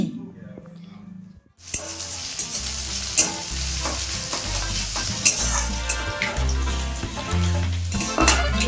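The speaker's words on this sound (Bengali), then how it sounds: "রসুন দিয়েছি কুচিয়ে রসুনটা ভাজা ভাজা হলে ভালো লাগে" Chopped garlic sizzles loudly in a hot pan while chow mein is being made, with a utensil stirring and scraping through the continuous crackle.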